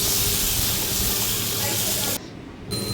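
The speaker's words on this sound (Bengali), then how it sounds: "মিষ্টি কুমড়োটা দিয়ে একটু শ্যালো ফ্রাই করে নিচ্ছি" Steady loud sizzle of pumpkin shallow frying in mustard oil with mustard seeds and dried red chili, a dense continuous hiss that dips briefly near the end before resuming.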